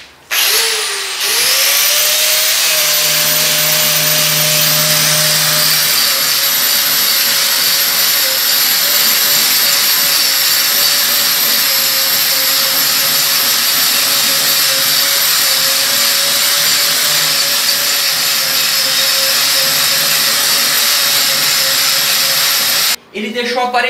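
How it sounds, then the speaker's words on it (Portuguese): Angle grinder fitted with a masonry grinding disc stripping paint from a wall, a loud, steady high-pitched whine with abrasive roar running almost continuously for over twenty seconds. "Disco de desbaste com alvenaria e esmerilhadeira."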